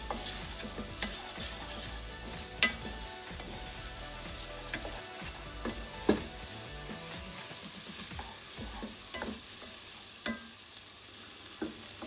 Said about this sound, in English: So the onions now caramelise with the sugar.